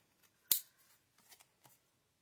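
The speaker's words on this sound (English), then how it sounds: "Now I'm just going to take my scissors and just cut the edges off so it's nice and even" Scissors snip through paper to trim the edges of a handmade Easter card, one crisp close cut followed by a few softer, quieter snips and paper rustles, with no talking.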